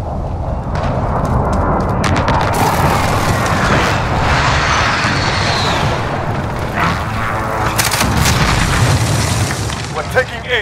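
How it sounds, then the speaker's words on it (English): Dense, loud rumbling booms and blasts from airstrike explosions in Call of Duty: Modern Warfare II multiplayer, continuous and layered throughout with sharp crackling bursts near the end, and game voices under the din. "Enemy precision airstrike inbound."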